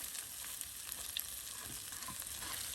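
Fritters fry in hot oil, giving off a soft, continuous sizzle and crackle with a few small pops, close by and with no voices.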